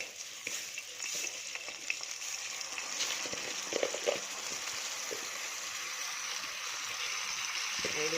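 Washed rice drops into oil with golden-browned vermicelli, giving a soft, steady sizzle with scattered stirring scrapes and light clinks.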